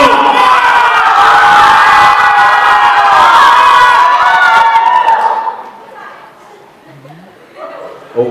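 A pageant crowd at the Miss & Mr Hmong Universities crowning screams and cheers loudly and continuously for about five seconds, then dies down to scattered chatter and a few whoops.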